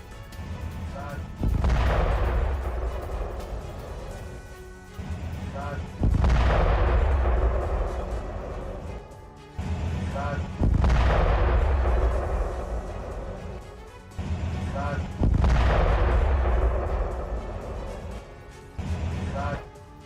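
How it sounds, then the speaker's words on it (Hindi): Bombs strike a Hezbollah site set up in a restaurant in southern Lebanon: four heavy, loud blasts a few seconds apart, each followed by a long rumbling decay. "आईडीएफ ने हिजबुल्लाह के ठिकाने को बम से उड़ा दिया।"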